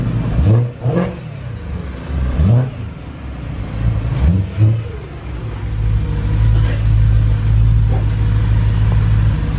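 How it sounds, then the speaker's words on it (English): A BMW E92 M3 engine revs hard several times, rising and falling, then settles into a loud, steady rumbling idle nearby. "we got the M3 in here, and this thing sounds amazing. It's absolutely louder than mine."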